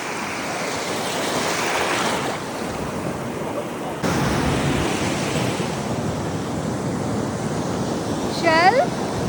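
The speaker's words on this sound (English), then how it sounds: "recording the sound of the beach so that whenever I'm home I can listen to it" Ocean waves washing onto a beach in Goa, a steady broad roar of surf with a gusty wind-blown texture, continuous and fairly loud, with a brief high whistling chirp near the end.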